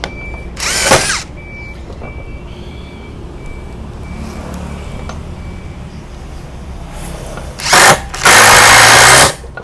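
A DeWalt impact driver drives wood screws in two loud, rattling bursts, one short near the start and a longer one at the end, with a quieter stretch of background noise between them.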